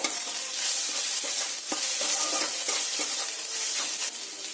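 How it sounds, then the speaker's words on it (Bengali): Boiled potatoes sautéing in a pan with cumin powder, Kashmiri chili powder and salt, producing a loud, continuous sizzle with frequent scraping stir strokes from a spatula. "হাফ চামচ জিরে গুঁড়ো হাফ চামচ কাশ্মীরি লঙ্কা গুঁড়ো স্বাদ মতো লবণ দিয়ে আবারও ভালো করে কষিয়ে নিতে হবে"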